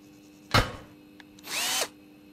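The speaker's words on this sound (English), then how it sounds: "spin it around until it gets on the bolt, and then you unscrew it." A power tool in a video game spins a bolt loose in two short whirring bursts about a second apart, the second steadier and longer, with no talk.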